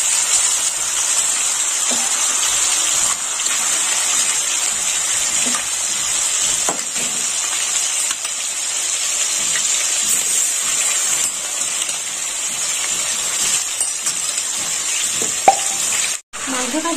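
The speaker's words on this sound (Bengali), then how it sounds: "এই তেলে আমি মাংসটা ভেজে নেব।" About 700 g of chicken pieces rubbed with salt and turmeric fry in oil left from frying potatoes, making a loud, steady sizzle that lasts throughout, close by, with a brief thump near the end.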